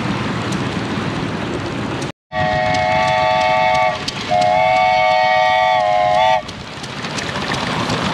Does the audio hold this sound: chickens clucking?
no